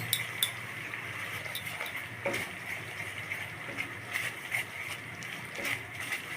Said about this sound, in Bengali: এখন চুলার আঁচ মিডিয়াম টু লোতে রেখে অনবরত নাড়তে থাকবো পর্যন্ত ক্যারামেলের কালারটা চলে না আসে।